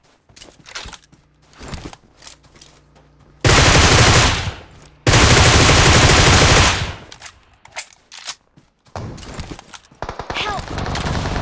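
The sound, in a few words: gunfire in a video game match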